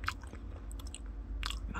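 Close bites and chewing on a blueberry macaron that is moist rather than crisp, with soft crunchy bursts near the start and again toward the end over a low steady background.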